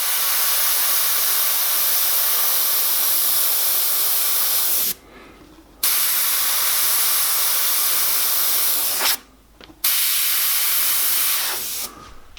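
An airbrush sprays black paint for a night-sky artwork, making a steady close hiss that cuts off abruptly three times in short pauses before resuming.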